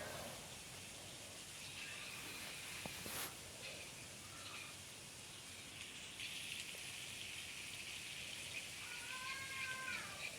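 Pieces of sea fish sizzle in hot oil in a wok, a steady close hiss of frying with occasional pops and crackles.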